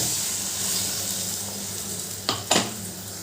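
Water poured into spice paste frying for a paneer curry: a steady close sizzle, then two quick sharp hissing bursts near the end.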